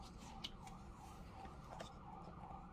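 Emergency vehicle sirens pass by outside, a faint, steady wail muffled behind walls and set against constant low traffic rumble, with no talk over it.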